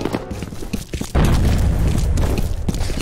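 A grenade detonates in the multiplayer shooter FEAR Combat: a sudden, loud, broadband boom cuts in about a second into the clip and rolls on as a sustained roar to the end.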